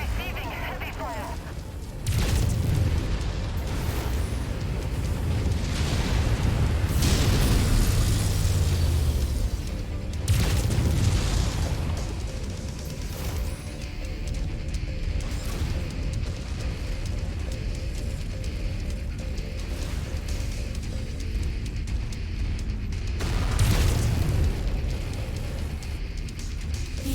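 Heavy weapons fire and explosions in the mech combat video game MechWarrior 5, with deep booms and blasts recurring over a continuous rumbling battle bed, under a synthetic voice reporting status.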